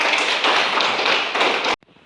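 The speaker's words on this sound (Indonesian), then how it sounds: "Tepuk tangan semuanya" A classroom of students claps hands together in a loud, dense burst that cuts off abruptly, leaving near silence.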